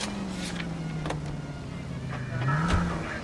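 A car engine in the L.A. Noire video game hums steadily with a low drone, rising briefly toward the end as if revving, alongside faint mechanical noises.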